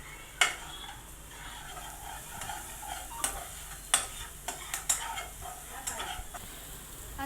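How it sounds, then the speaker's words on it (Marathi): Masala with ground spice paste and red chili powder being sautéed in a pan: a faint, low sizzle broken by irregular sharp clicks and scrapes of a spoon stirring against the pan. "आता आपण ते परतून घेऊया."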